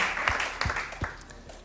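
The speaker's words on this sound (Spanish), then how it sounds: "Dele un aplauso al Señor" A church congregation claps for the Lord during a worship service, a thin, scattered patter with a few sharper individual claps standing out, moderately near and fairly quiet.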